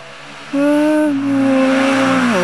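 A nearby motorcycle engine jumps into a loud, sustained rev, holding a high whining pitch before dipping slightly and climbing again.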